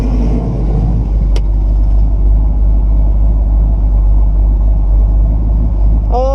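A 1969 Buick Special Deluxe engine idles steadily at close range, a continuous low rumble with an even, unchanging rhythm throughout, and no talk over it.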